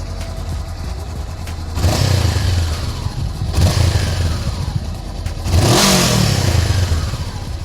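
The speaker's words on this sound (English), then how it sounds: "You guys can listen to the stock exhausts." Honda CB500F motorcycle on its stock exhaust, revving in three rising bursts from a steady idle, each swell loud and close before settling back down.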